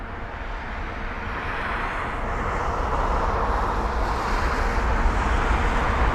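A large American Airlines Boeing 777 taxiing toward the departure runway at London Heathrow, its steady broadband jet engine roar holding constant and fairly loud with no talk.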